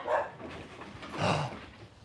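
A dog barks twice during an outdoor golf lesson, two short close barks with a pause between them and quiet background otherwise.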